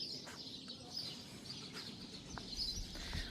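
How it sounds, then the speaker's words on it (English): Birdsong at a quiet campervan parking area in Zaragoza, Spain: faint high chirps and tweets from birds some distance off over a soft outdoor hush, no talking. "The birdsong is unbelievable"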